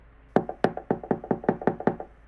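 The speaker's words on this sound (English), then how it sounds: "Just then, someone knocked on the door." A series of about nine sharp knocks on a door, rapped in a quick, slightly uneven rhythm, close and clear with no other sound around them.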